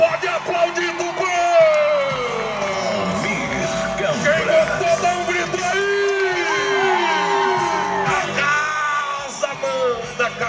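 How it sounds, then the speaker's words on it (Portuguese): A large rodeo crowd at the EXAPIT event in Tupã roars with sustained cheering, yells and whoops throughout, loud and continuous, mixed with an announcer's amplified voice. "Pode aplaudir Tupã."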